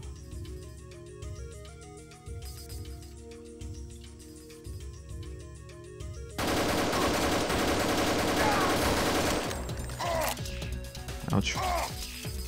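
Gunfire in the video game Deus Ex, modded with GMDX, during an escape from an underwater base: quiet game sounds first, then dense rapid bursts and scattered loud shots, with a player's voice talking over it.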